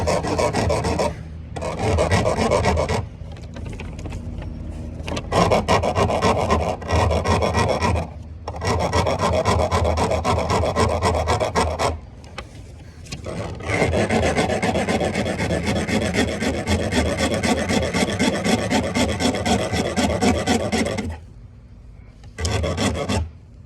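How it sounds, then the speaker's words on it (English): A rasp files down the sharp edges of a DIY splitboard kit, making loud, steady, close rasping strokes in long continuous runs broken by a few short pauses. "So let's go ahead and sand those down."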